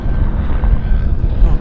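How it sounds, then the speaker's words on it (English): Small helicopter passing near the plane-spotting area at Vancouver International Airport (YVR), a steady low rotor and engine rumble holding at moderate loudness throughout with no other distinct sounds. "Little helicopter just flew by."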